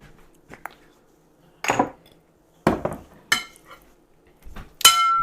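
Ingredients for a beef stir-fry with mushroom sauce being mixed in a bowl: scattered clinks, scrapes and clatters come in separate bursts, some sharper than others, with quiet gaps between them and no talking.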